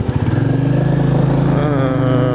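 Motorcycle ridden at a steady 40 to 80 km/h along a coastal highway, its engine droning loud and close with an even, continuous hum and slight pitch rise near the end.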